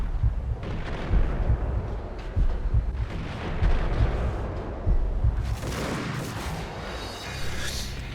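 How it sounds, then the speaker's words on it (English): Shotgun blasts in the Max Payne video game, a series of heavy booming shots spaced roughly a second apart over a rumbling in-game background, loud and close, with a sharper crash near the end. "give the shotgun a go"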